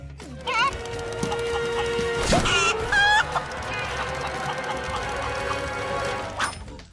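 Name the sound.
chickens clucking in a video game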